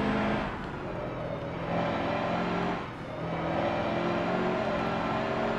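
A race car engine in Forza 7 drones steadily on track at moderate volume, with a slight dip and swell in pitch as the car lifts and accelerates again.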